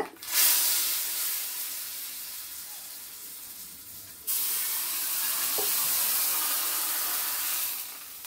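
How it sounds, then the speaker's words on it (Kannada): Tempering of cumin, curry leaves and asafoetida for a Mangaluru cucumber sambar crackles and hisses in hot oil, a broad steady sizzle that drops off midway then surges again loudly before fading at the end. "ಕರಿಬೇವು, ಇಂಗು ಚೆನ್ನಾಗಿ ಹಾಕಬೇಕು. ಇದಕ್ಕೆ ಒಗ್ಗರಣೆ ಚಟಪಟ ಅಂತು."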